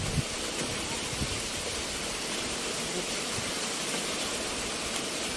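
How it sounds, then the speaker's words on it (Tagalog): Heavy rain falling steadily, a dense, even hiss with no breaks or distinct drops, fairly loud and constant throughout, with no talk. "Ulan kaayo."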